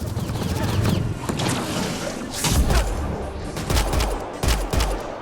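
Rapid gunfire from a firefight in the Mass Effect: Andromeda video game, with dense overlapping bursts and a few louder booming shots standing out over a steady battle din, no talk.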